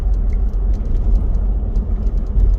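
A GM truck V8 engine, 4.8, 5.3 or 6.0 litre, idles steadily with tow haul switched off as its revs settle down, giving a continuous close, loud low rumble with no talk.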